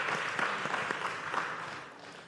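Dense, sustained applause from an audience at a post-budget meeting, honouring corporate Trinidad and Tobago donors, many hands clapping at once in a continuous wash that tapers slightly toward the end.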